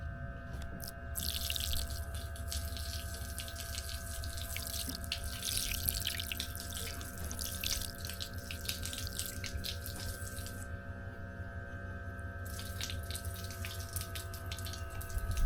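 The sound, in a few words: water flowing from Dr Prepare solar shower hose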